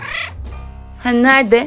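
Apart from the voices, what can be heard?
Siamese cat meowing in a cat simulator video game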